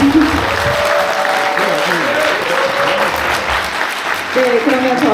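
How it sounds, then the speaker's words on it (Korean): Sustained audience applause fills a book launch celebration for politician Seo Eun-suk, steady broadband clapping throughout with a host's voice and musical tones running under it. "여러분 힘내라고 다시 한번 큰 박수 부탁드립니다."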